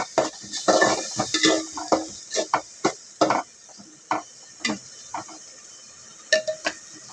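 A spoon clinks and scrapes against a cooking pot of fish curry made with pomfret, in a series of sharp, irregular knocks with quiet gaps between them, close by and with no voices.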